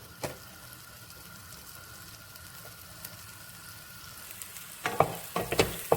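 Garlic fries in melted butter in a pan with a soft, steady sizzle, then a few louder clatters of stirring near the end.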